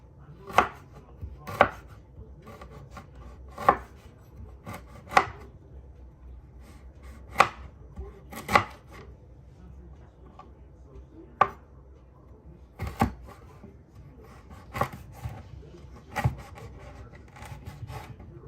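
Fresh ginger being sliced with a knife on a board, about a dozen sharp, separate chops at an irregular pace against a quiet background.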